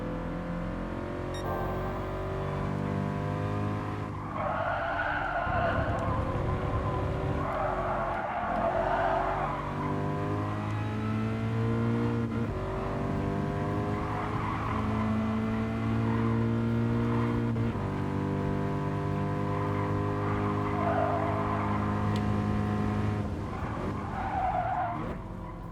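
A Subaru BRZ race car in the GT Sport racing game roars with a sustained, loud engine note whose pitch rises and falls through gear changes, with screeching tire skids running throughout the drive.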